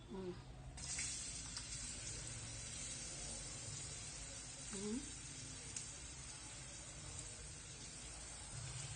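Two onions fry in oil in a pan on the stove, giving a steady soft sizzle throughout, with someone talking over it.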